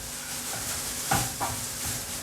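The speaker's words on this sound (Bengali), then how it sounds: "রসুনটা আচ্ছা করে ভুনে নেব আমি একদম ব্রাউন করে ভুলতে হবে একদম গোল্ডেন ব্রাউন চুলোর ফ্লেমটা আমি মিডিয়াম রেখেছি" Garlic frying in a pan on a medium flame for dal makhani, a steady soft sizzle with a few stirring scrapes and clinks, close and even.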